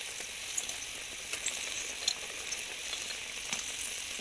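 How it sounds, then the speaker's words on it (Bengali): Kofta balls made from taro flowers simmer in a curry gravy, giving a soft, even sizzle and bubbling hiss with faint pops and small clicks, steady and quiet, with no voices. "এবার আমি কোপ্তাগুলোকে ছেড়ে দেবো, দিয়ে আমি একটু ফুটিয়ে নেবো কোপ্তাগুলোকে এই গ্রেভির সঙ্গে।"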